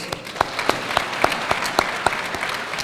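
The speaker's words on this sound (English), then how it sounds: "Please, a round of applause." A symposium audience gives a round of applause for the chairperson, with scattered, fairly sparse claps forming an uneven rhythm, moderately close and not very dense.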